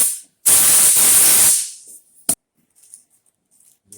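Compressed air blasts across the forward cylinder of a 2006 Victory motorcycle engine under assembly, one loud steady hiss of about a second, then a short sharp puff and faint scattered noises.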